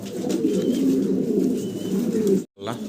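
Fancy pet pigeons coo continuously in low, soft murmurs close by, cut off abruptly near the end before resuming briefly.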